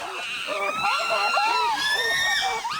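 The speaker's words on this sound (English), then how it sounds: "There's a lot of screaming, there's lots of displays, it's very loud" Chimpanzees in the wild after a hunt, a loud chaotic chorus of overlapping high screams and shrieks that rise and fall continuously, close and intense with no quiet gaps.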